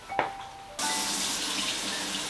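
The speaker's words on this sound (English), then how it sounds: "I just get it right from the faucet." Water runs steadily and loudly from a kitchen faucet into the sink, starting abruptly after a brief clatter and continuing without a break.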